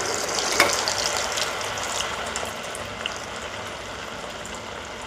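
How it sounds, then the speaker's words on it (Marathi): Sabudana vada, small tapioca-pearl fritters, fry in hot oil over a medium flame, giving a steady, close bubbling sizzle throughout with one sharper pop near the start. "छोटे वडी करायची आणि तेलात सोडत चालायची"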